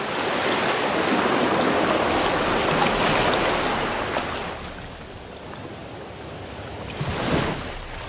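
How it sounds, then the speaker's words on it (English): Ocean waves wash onto a warm, sunny beach in a steady broadband roar, swelling during the first few seconds, easing into a softer wash, then a fresh surge near the end. "the sounds of the ocean"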